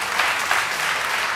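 Studio audience applause fills the room, a dense, loud, even burst of many hands clapping steadily for the whole moment with no voices rising above it.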